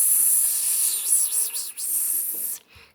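A sustained voiced S hiss imitates air leaking from a punctured balloon, close and fairly loud, with slight wavering pulses in the middle before it stops near the end.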